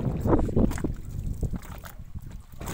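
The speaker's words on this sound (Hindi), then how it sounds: "आज हवा तेज़ है" Strong wind blows across an open pond, gusting and buffeting the microphone with low rumbles that rise and fall.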